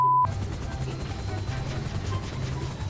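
Helicopter in the video game GTA V, a steady low rotor drone with mechanical whine running throughout after a brief tone at the start, fairly loud and continuous.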